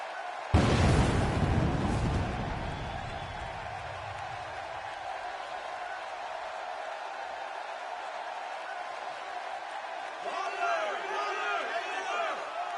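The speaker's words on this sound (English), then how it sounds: "Listen to this. This crowd absolutely loves him." Video game arena crowd in WWE 2K16 roaring for a wrestler, starting with a loud burst of cheering that settles into a steady sustained roar, then swells again near the end with high whistles and shouts.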